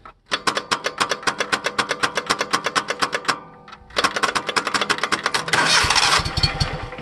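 A Kohler CH20S V-twin engine cranks over with a fast, steady chugging rhythm of starter strokes, pauses briefly, then cranks again, the sound turning rougher and denser toward the end, close and loud.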